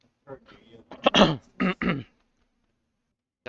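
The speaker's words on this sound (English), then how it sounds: "Gotta clear my throat." A man clears his throat indoors at a card and games store tournament, a few rough guttural bursts close to the listener, followed by a brief quiet and a faint sound at the end.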